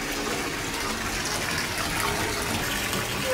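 Water gushing steadily from a tap into a filling bathtub, a continuous broadband rush heard close and loud without pause.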